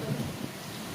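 Heavy rain pours down steadily with rumbling thunder, a dense continuous roar close by and no speech.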